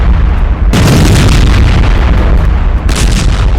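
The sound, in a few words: bunker buster bomb explosions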